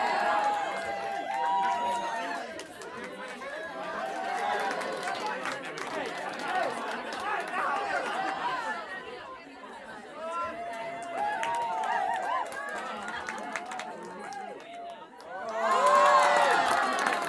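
A conference keynote audience cheering, shouting and whooping in a large hall, a dense crowd roar that dips briefly and then swells loudly again near the end, with voices mixed throughout.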